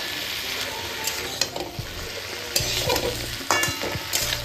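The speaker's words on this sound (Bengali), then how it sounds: "হলুদ লবণটা দেওয়ার পরে একটু ভালো করে সুন্দর করে নাড়াচাড়া করে নেব" Malabar spinach tossed with salt and turmeric in a hot pan, a utensil scraping and stirring in repeated strokes over a steady close sizzle, with no talking.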